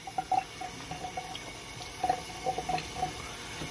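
Water runs from a tap in an uneven trickle, with repeated splashy pulses and gurgles, close by and moderately loud.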